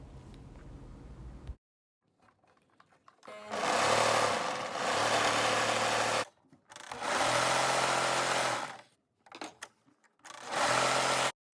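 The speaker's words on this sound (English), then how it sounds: "we're going to finish the edges across the whole facing at the serger" A serger overlocks the raw edges of a blouse facing in woven fabric, running in three steady buzzing bursts of a few seconds each, separated by pauses and short stutters, close and loud, with no talk.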